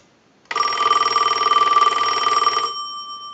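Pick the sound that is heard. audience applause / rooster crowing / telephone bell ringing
telephone bell ringing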